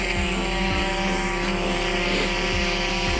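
A FIMI X8 SE drone flies close by with a loud, steady whine of spinning propellers, continuous and unbroken throughout.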